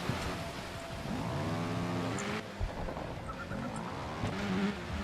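A motorbike engine in Trials Evolution revs up and down in rising and falling sweeps, with a brief thud midway and throttle surges, loud and close with no talk.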